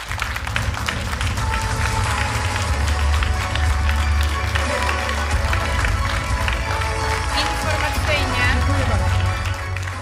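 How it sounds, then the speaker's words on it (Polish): An audience applauds a politician, Krzysztof Gawkowski, at a youth campus event in Sosnowiec, Poland. Continuous clapping and crowd noise run for ten seconds, loud and thick, mixed with music and voices. "Wielkie brawa"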